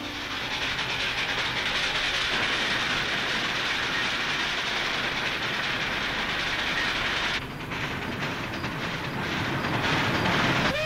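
A train runs along railroad tracks in a TV western, a continuous loud rumble with a rhythmic clickety-clack and some hiss. It holds steady and then changes character near the end.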